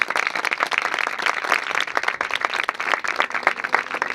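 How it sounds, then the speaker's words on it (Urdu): Congregation in a church clapping loudly for Jesus, rapid individual claps blending into a lively, uneven roar that fluctuates throughout, close and without speech. "آئیے یسوع مسیح ناصری کے لیے زوردار تالیاں بجائیں۔"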